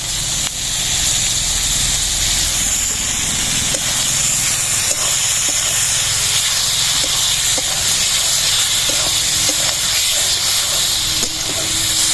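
Pointed gourd and poppy seed paste sizzle hard in a hot pan, a loud steady hiss of steam and spattering oil that runs without a break, with faint stirring clicks scattered through it.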